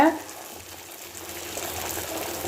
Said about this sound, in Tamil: இப்போ எண்ணெய் நல்லா சுட்டோன்னே அதில் இப்படி தட்டின மாவை போடுங்க